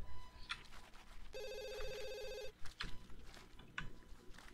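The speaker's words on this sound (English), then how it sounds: "Why is your phone ringing?" A telephone in The Sims 2 rings with a steady electronic tone lasting just over a second, set among scattered game sound effects and low background music.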